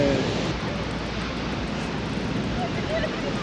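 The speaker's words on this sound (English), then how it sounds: "These waves are sneaky." Ocean surf rolls onto a black sand beach on Iceland's south coast, a broad continuous wash of breaking waves mixed with gusty wind noise, steady and fairly loud with no talking.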